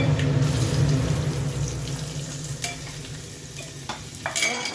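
Spices for a kadhi tempering crackle and sizzle in hot oil, a dense hissing fry close by, with a few sharp pops and a spoon clinking near the end.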